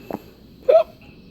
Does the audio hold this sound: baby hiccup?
yes